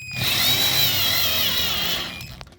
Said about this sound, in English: Pick our handy dandy drill up,